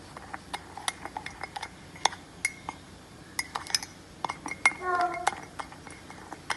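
Dry brownie ingredients with a pinch of salt being mixed in a mug, a quick run of light spoon clinks and taps against the mug, faint and close, with a brief voice in the background.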